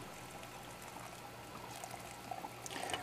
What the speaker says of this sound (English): So this is my this is my evaporation jar, so I'll pour this in there.